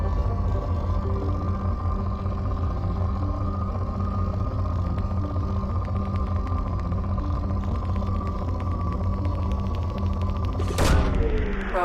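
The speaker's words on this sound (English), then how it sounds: "Launching probe." In Mass Effect 2, a planetary probe launches as a sharp whooshing burst near the end, following a long steady humming drone of ship ambience.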